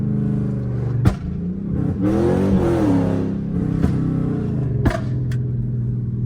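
A Chrysler 300 with a 5.7 Hemi and a stage 2 burble tune rumbles deep and loud from inside the car, its engine note rising and falling through downshifts, punctuated by a few sharp pops and crackles.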